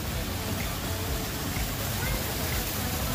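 Steady broadband rush of flowing water, like an indoor waterfall or stream display inside a Cabela's hunting and fishing store, continuous and even throughout with faint voices around it.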